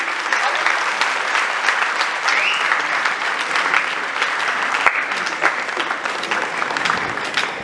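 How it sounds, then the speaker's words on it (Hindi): Audience at an award ceremony honouring Sonu Nigam with the Shri Shankar Shambhu Memorial Award 2025 applauds in a dense, sustained wave of clapping that holds steady and loud throughout, with no voices standing out. "तालियां जोर से बजाइए"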